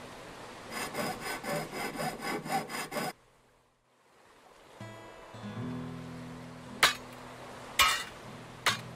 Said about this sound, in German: Wo säge ich das denn? mittendurch?